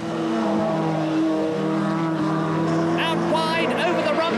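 In-car sound of a 1989 British Touring Car Championship racer, a loud, steady engine roar with rising and falling revs through gear changes, with commentary talking over it throughout.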